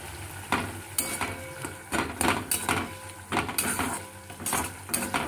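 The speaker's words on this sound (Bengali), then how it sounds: "পোস্ত বাটাটা দিয়ে খুব ভালো করে নাড়াতে হবে" Curry is stirred in a pan after poppy seed paste goes in, giving repeated scraping and clinking strokes of a spoon against metal with a soft sizzle underneath, close and fairly quiet.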